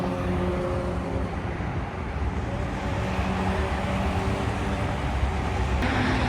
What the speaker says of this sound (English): There's gonna be insane traffic.